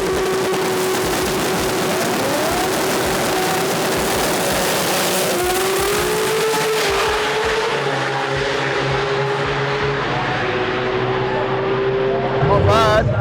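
A race car engine at a Sydney jamboree drag event, loud sustained revving with rising and falling pitch as it runs, under crowd chatter and talk.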